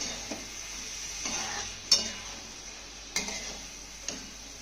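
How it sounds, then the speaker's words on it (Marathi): A spoon stirs cooked bitter gourd in a pan over a soft steady sizzle, with a few distinct scraping strokes and sharp clinks against the metal, fairly close and without talk. "हे कारलं ना तळापासून आपण चांगलं हलवून घेऊया"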